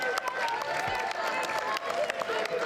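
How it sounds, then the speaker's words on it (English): An audience claps steadily at the close of a school geography bee, a dense, continuous patter of applause that holds at an even level for the whole stretch. "Let's give him a round of applause."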